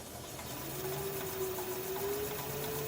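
A wood lathe spins up a laurel bowl blank held under tailstock pressure, its motor giving a steady rising whine over a low constant hum, close and moderately loud for about three seconds.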